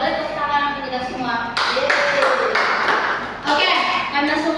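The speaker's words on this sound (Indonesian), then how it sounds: "Boleh tepuk tangan kita semua." A group of students claps briefly in a classroom, several bursts of applause close by, with some voices and tapping mixed in.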